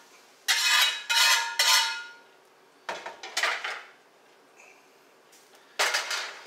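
Beef broth used to deglaze a pan for dirty rice is scraped out with a metal utensil and poured into a pot, producing several close, loud clanks and scraping bursts with short pauses between.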